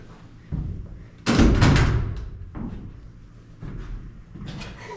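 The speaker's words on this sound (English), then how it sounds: "yeah, it's a pocket door." A pocket door in a bedroom under construction slides along its track and shuts with a loud, close thud, followed by fainter bumps and rattles of the door settling.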